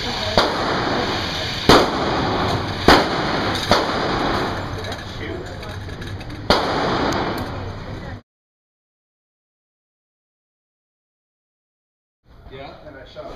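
Several sharp, loud reports from a Colt 1911 pistol fired at an indoor range, spaced irregularly over constant background noise and chatter, followed by silence and then faint noise.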